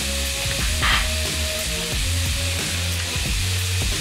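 Steak stir-fry with black pepper sizzles steadily in a pan, a bright continuous frying hiss with a few clatters as it is stirred, close and alone without talk.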